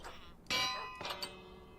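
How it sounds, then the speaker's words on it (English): A bell used as a doorbell in the Minecraft video game gives two bright, ringing clangs, the first loud with a lingering metallic decay and the second softer about three-quarters of a second later. "Oh, that does the bell every time. That's kind of cool."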